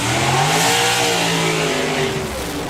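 A drag racing car at the FIA FIM Main Event 2026 blasts off down the strip, a loud roaring engine rising in pitch as it accelerates, then fading slightly toward the end.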